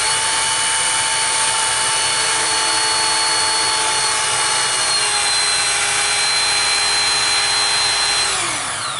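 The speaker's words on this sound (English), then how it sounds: "allow that tool to spool up, and allow just enough hydraulic fluid to creep past this valve down here" A Hurst eDraulic battery-powered hydraulic rescue tool spools up, its motor emitting a loud, steady high whine with sustained tones that hold for several seconds, then drop in pitch as it winds down at the end.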